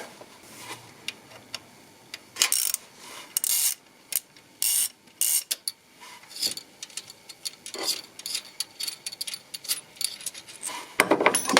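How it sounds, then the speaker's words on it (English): A bolt is undone by hand on an AL4 automatic gearbox during repair, giving bursts of rapid ratcheting clicks and metallic rattles, near and fairly loud, stopping and starting in short runs. "Then undo that bolt."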